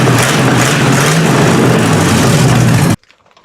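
A 1952 331 Hemi V8 runs loud and close, holding a steady rough roar with slight rises in revs before cutting off abruptly into near silence.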